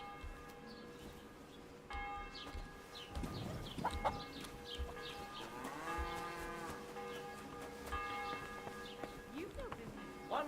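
A cow moos a few times in drawn-out, low calls in the video game Kingdom Come, over a steady background of bell-like tones and faint bird chirps.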